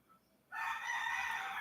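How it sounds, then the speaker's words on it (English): Roosters crowing nearby, a loud sustained cock-a-doodle-doo that starts abruptly after a brief quiet moment and carries steadily to the end. "Pardon the roosters in the background."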